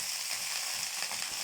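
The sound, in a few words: fenugreek leaves frying in oil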